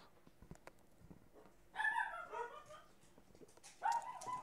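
Several dogs barking and yipping excitedly in two bursts, with softer whimpers and clicks between them, fairly close and without talk.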